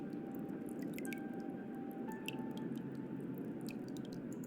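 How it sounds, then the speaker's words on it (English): Trickling water drips in the Slay the Princess video game, a quiet steady wet patter with scattered small drips and splashes over a low ambient hum, with no voices. "Do you hear that trickling?"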